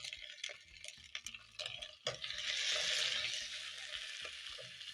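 Potatoes frying with onions and garlic in a pan for Kenyan beef matoke, a steady loud sizzle that swells midway, with a few clinks and stirring knocks over it and no talk.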